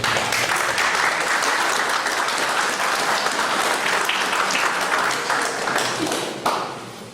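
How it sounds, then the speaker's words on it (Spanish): An audience applauds Dr Víctor Rodríguez Montesa with dense, steady clapping that holds loud and even for about six seconds, then dips and thins out toward the end. "brindándole nuevamente un fuerte aplauso"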